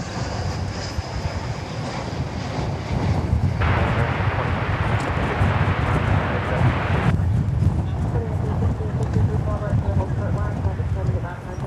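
An airliner lands on runway 18L at DFW Airport, a loud continuous roar of engines and rushing air that swells in the middle and then eases off, with nearby talk at times.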